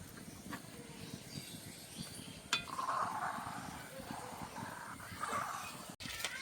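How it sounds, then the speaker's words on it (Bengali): Watermelon pudding mixture is stirred in a hot pot, a soft steady scraping and faint bubbling simmer with occasional clinks of the spoon against the pot, close and quiet. "বন্ধুরা দেখুন এইভাবে আমি কিন্তু ঘন ঘন নাড়া দিচ্ছি"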